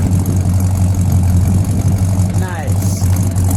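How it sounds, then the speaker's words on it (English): A 1960 Plymouth Fury convertible engine idling nearby with a steady low, loud rumble and a brief squeaky sweep partway through. "Let it idle for just a second."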